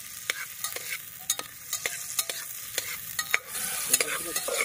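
Tilapia fish frying in hot oil, a steady crackling sizzle punctuated by sharp pops and spatters, close and fairly quiet with no voices.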